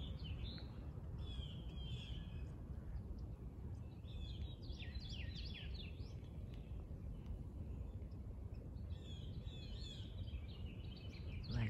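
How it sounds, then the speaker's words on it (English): Birds sing on a morning outdoors, trading quick chirps and trills in scattered clusters across the whole stretch, fairly close, above a constant low ambient hum and faint distant drone. "Wanted you to hear the birds."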